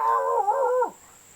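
A storyteller's voice imitates dogs howling, a single drawn-out wavering howl that rises, wobbles and drops off sharply, close and clear against a quiet background.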